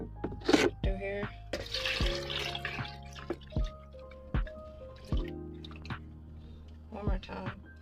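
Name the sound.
green juice being poured through a strainer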